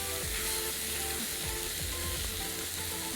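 A T-bone steak frying in a pan outdoors on a riverbank, giving a steady, close, continuous sizzle and crackle of fat throughout, with no talking.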